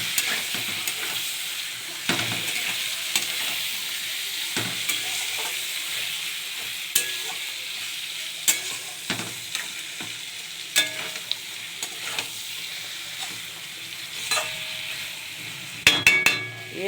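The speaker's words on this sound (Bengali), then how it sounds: "আমি এই মটন যেটা মেখে রেখেছিলাম এইটাকে দিয়ে দিলাম কড়াইয়ে।" Marinated mutton hitting a kadai of browned onion and garlic, sizzling steadily while a spoon scrapes and knocks against the metal at intervals, with a few sharp clanks near the end.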